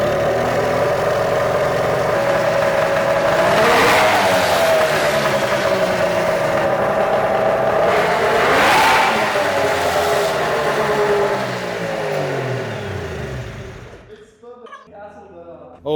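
A snowmobile engine fitted to a golf cart revs hard and holds a loud, steady roar during a burnout with a spinning tire, rising in pitch twice before cutting out abruptly near the end.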